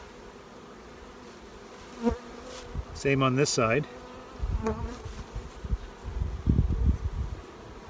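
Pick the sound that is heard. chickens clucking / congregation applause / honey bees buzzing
honey bees buzzing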